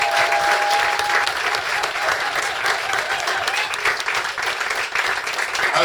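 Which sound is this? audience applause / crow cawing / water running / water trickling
audience applause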